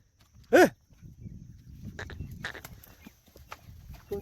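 Two cattle herds clash in a cow fight during the monsoon among Gujarati herders, starting with one short, loud bellow followed by scattered hoof clatter and scuffling at a moderate distance.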